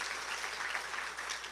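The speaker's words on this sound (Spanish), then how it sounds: "Denle un fuerte aplauso a Cristo Jesús entonces" A church congregation claps for Jesus Christ during a sermon, a soft, distant patter of hands sustained briefly without speech.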